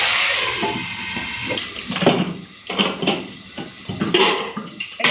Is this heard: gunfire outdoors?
no